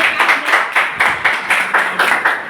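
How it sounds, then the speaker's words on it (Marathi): A small audience claps in unison, loud rhythmic hand claps repeating evenly about three times a second at a product presentation, with no talking over them. "याच्यासाठी एकदा जोरदार टाळ्या होऊ द्या"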